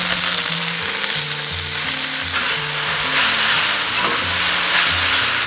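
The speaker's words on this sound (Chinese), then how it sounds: "下入芥菜翻炒" Mustard greens stir-fried in a little oil in a wok give a loud, steady sizzle with scraping stirs throughout, no talking.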